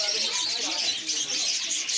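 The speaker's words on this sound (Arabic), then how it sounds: "عندنا عصافير فريزي كنار فريزي" Frizzled canaries chirp and tweet in a dense, continuous chorus inside a bird shop, many birds close by singing at once, with people talking underneath.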